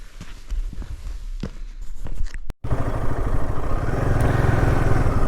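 A motorcycle ride on a road in Ladakh: quiet clattering and footsteps at first, then after a brief cut the steady engine and wind noise of the moving bike roar up close and continuous.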